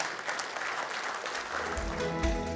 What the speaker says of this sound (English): ladies and gentlemen, a bigger applause as we capture this wonderful moment right here on stage